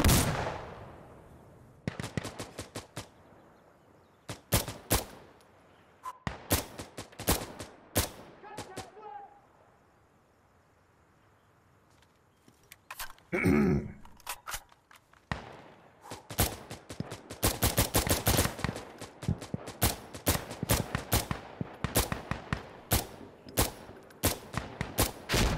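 Gunfire in Insurgency: Sandstorm with the ISMC mod: rapid automatic bursts and single sharp shots, some close and loud, with a quieter lull midway before dense firing resumes, and a voice talking at times.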